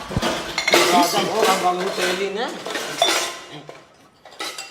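Steel utensils, plates, glasses and pots clink and clatter loudly nearby as kitchenware is handed around, with repeated ringing metallic knocks in quick irregular bursts that fade near the end.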